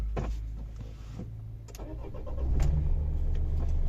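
A car engine cranks over several times and then catches after a temperature sensor fault is fixed, settling into a steadier running rumble, close by with no talking.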